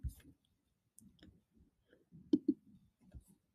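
Computer mouse clicks while working in the Noodletools citation site, several light, sharp clicks scattered across a few seconds, close and quiet.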